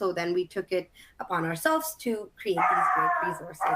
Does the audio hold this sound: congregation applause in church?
no